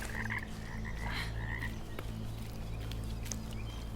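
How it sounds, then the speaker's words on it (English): A frog croaks repeatedly from the water in a spooky video game, its calls sitting over a steady low droning game ambience with no talking. "That's a toad. Sorry, frog, because he's in the water."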